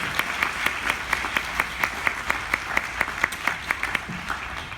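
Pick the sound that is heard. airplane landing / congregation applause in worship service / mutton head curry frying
congregation applause in worship service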